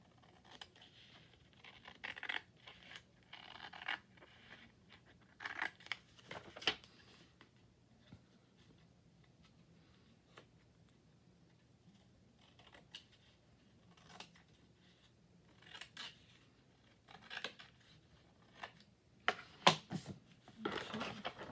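Paper being trimmed off a handmade craft project with scissors: scattered short snipping and scraping cuts in several bursts, close and fairly quiet, with pauses of near silence between them.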